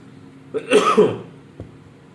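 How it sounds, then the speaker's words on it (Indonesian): A single harsh cough bursts out close by, a short throaty blast followed by a faint click, then quiet. "batuk begitu ada droplet ya"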